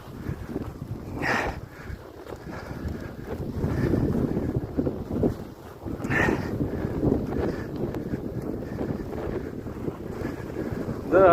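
Steady blizzard wind buffets the microphone at a boat station in winter, with a rough rushing roar and scattered gusts, plus faint scraping and thumps from rowing through snowdrifts.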